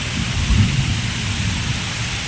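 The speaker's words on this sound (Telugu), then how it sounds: "హైదరాబాద్లో ఫుల్ వర్షం అండి" Heavy rain pours down in a village near Hyderabad as thunder rumbles through the steady, dense roar of the downpour. The storm is loud and close, and no one speaks.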